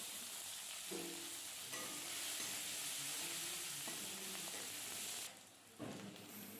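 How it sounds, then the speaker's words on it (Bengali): Chopped onions sizzle steadily in hot oil with five-spice seeds (panch phoron), with soft stirring scrapes and a brief dip in the frying noise near the end, no voices. "তার মধ্যে দিয়ে দিলাম পেঁয়াজ কুচি পেঁয়াজটাও একটু লাল লাল মতো ভেজে নিতে হবে"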